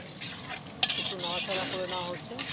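Nigella seeds drop into hot mustard oil in a wok, giving a sharp clink and then a steady sizzle and crackle that runs on close by with no talk.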